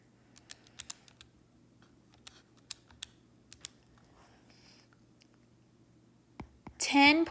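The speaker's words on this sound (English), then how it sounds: "typing this in my calculator" Calculator keypad buttons tapped in a quiet room: a handful of faint, scattered clicks at uneven intervals, followed by a brief louder rustle at the end.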